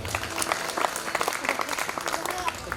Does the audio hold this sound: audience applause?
yes